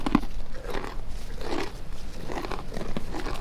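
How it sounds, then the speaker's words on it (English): Close-up crunching and chewing, a few distinct crunchy bites spaced out over soft background noise. "Those are the loudest, crunchiest treats I've ever seen."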